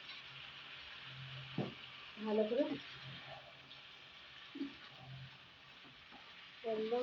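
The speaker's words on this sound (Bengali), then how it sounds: "একদম ভালো করে ভাজা ভাজা করবো।" Dried shrimp frying in a pan on the stove, with a steady soft sizzle running throughout and occasional scraping stirs. A person speaks briefly over the cooking.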